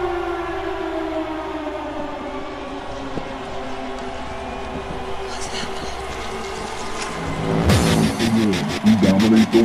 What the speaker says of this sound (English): Here comes the siren again.